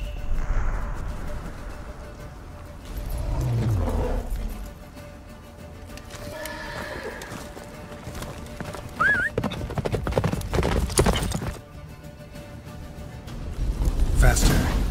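Roach the horse gallops in The Witcher 3 with rapid rhythmic hoofbeats up close, broken by a neigh, while game voices talk and wind and snowstorm noise swell in and out.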